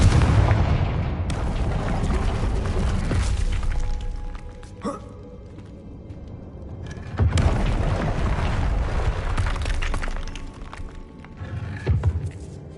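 Confringo blasting spells explode in Hogwarts Legacy: two big booming blasts, each followed by a long rumbling roar and scattered crackles of debris, loud and close.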